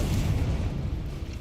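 Blasting spell explosions in Hogwarts Legacy, a deep rumbling boom that swells and decays over a second and a half, dense low-end and fairly loud, with no talking.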